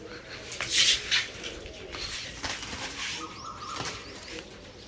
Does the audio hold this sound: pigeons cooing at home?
yes